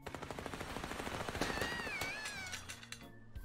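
Rapid bursts of video game gunfire with real bullets in Little Misfortune, a quick run of sharp clicking shots followed by a short whining tone, fairly faint.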